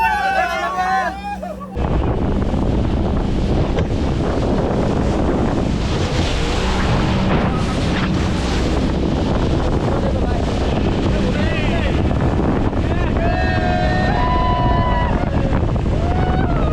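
Open sea off Juhu beach in Mumbai: strong wind buffets the microphone over rushing waves and a boat's hum, with people chattering and calling out throughout.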